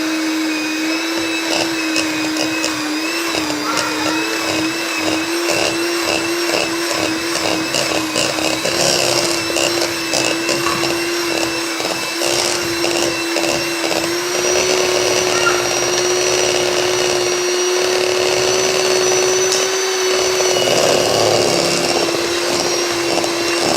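Electric hand mixer beating sugar and butter together for cut-out sugar cookie dough, a steady loud motor whine running throughout with faint speech under it.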